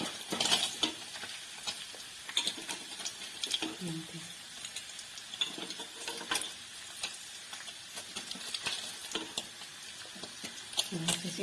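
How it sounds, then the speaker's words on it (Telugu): Paneer pieces frying in a pan for mutter paneer curry, a continuous close sizzle broken by scraping and clinking as the pieces are turned, with a faint voice now and then. "ఇలా అన్నిటిని ఫ్రై చేసుకొని పక్కన పెట్టేసుకోవాలి."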